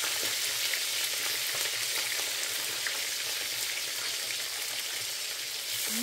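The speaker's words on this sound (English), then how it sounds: "I'm not going to fry this bone dry." Fish frying in hot oil in a pan gives a loud, dense, continuous crackling sizzle that holds steady throughout, close by.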